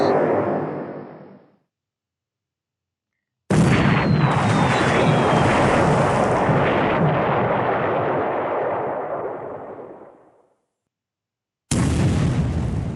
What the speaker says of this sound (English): But we have our torpedo attack. Now they know this is correct. More torpedo hits.